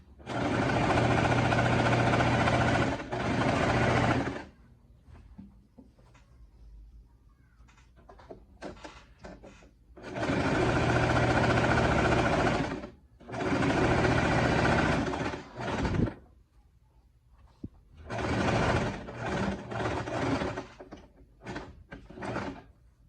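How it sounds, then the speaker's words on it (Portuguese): A sewing machine stitches a zipper onto a lab coat in four loud, close bursts, each a few seconds long, with quieter pauses of fabric handling and small clicks between them. "E aí a gente começa a costura. Ó, sem esticar, tá?"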